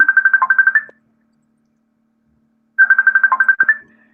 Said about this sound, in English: that's somebody calling on Facebook.